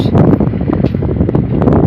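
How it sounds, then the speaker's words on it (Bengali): Strong wind gusts across a riverbank at Charmonai as Cyclone Amphan approaches under a signal-7 warning, buffeting the microphone in a loud, close, continuous roar for a couple of seconds with no speech. "বাতাস"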